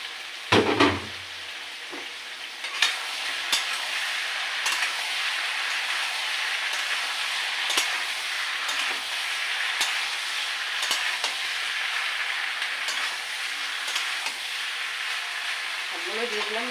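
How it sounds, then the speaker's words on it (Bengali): Malabar spinach stems and potatoes hitting hot spice paste in a pan, a thump on entry and then a steady, even sizzle with occasional stirring clinks, under a voice talking. "তো বন্ধুরা এবার আমি পুঁই শাকের ডাঁটাগুলো আর আলুগুলোকে দিয়ে দিচ্ছি।"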